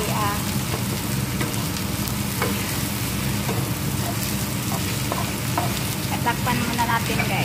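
Carrots sizzle and fry steadily in a pan for a sweet and sour sauce, a dense constant crackle with occasional sharper pops and stirring clinks, close and continuous.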